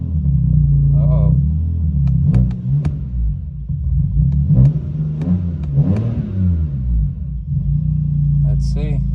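BMW M4 engine running rough and misfiring, a loud, close, uneven idle with stumbles, surges and sharp pops across about nine seconds.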